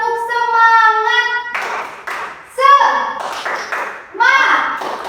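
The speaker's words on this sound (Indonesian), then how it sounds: "Ayo, tepuk semangat." Children in a classroom chant a rhythmic spirit clap with a teacher, sung voices alternating with bursts of hand claps in a short patterned sequence, close and loud.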